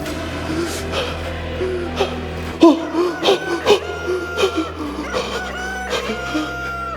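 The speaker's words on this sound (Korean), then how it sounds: "닭 울음소리가 또 저를 따라옵니다" A rooster crows and clucks in a series of short calls over a sustained musical backdrop in a church stage play.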